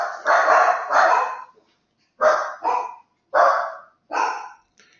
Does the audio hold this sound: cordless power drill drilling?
no